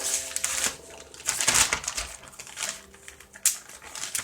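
Close, crinkly rustling of a plastic bag holding cookie dough as it is sealed and pressed flat, with several sharper crackles between softer handling sounds.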